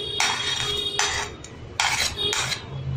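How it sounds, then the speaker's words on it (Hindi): Chopped onion goes into a bowl for jhal muri in a series of four short, bright clattering bursts against the bowl, close and moderately loud over a low steady hum. "अब सबसे पहले इस बाउल में ये अनियन डाल देंगे"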